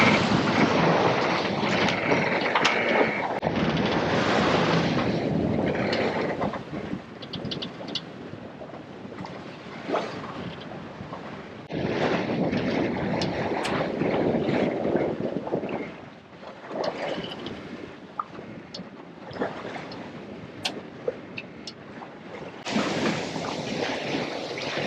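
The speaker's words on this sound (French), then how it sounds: "Nous avons tout sorti sur tribord, grande voile full et génois full." A sailboat running on starboard tack with full mainsail and full genoa, anchored near Mallorca in the Balearics, gives continuous loud wind rush and buffeting across the microphone over rolling waves and water swash, with no talk.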